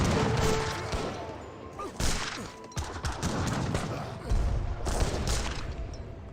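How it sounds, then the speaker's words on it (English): A busy battle in Age of Empires 3 brings mortar and musket fire, with repeated booming blasts and crackling volleys, some close and some farther off. "Sebastopol mortar does fire a shot there, but he's just simply way outgunned."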